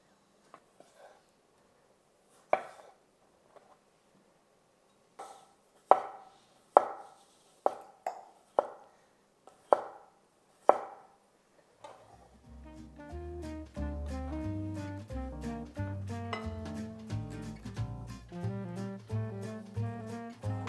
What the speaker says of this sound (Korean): 이 레디시 피클도 좀 썰어 주겠습니다